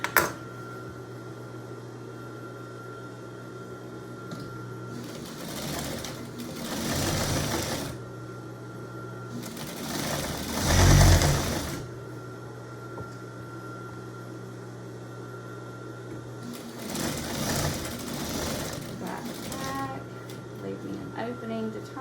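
A home sewing machine runs in bursts while stitching a half-inch seam on an apron, its steady motor whir and needle clatter starting and stopping several times over a constant low hum, with a loud close burst in the middle.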